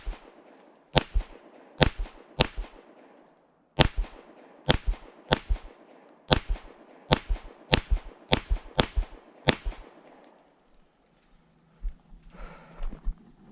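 Fusion Firearms XF PRO pistol with its stock barrel firing a string of about a dozen sharp, loud gunshots in uneven quick groups with short pauses, followed by faint handling noise.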